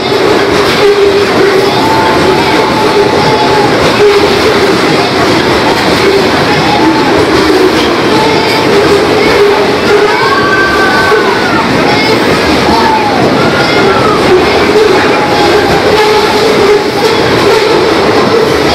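A long train with a locomotive rumbles steadily past in Limeira, Brazil, loud and continuous, with rail clatter and occasional squeals, while people talk nearby.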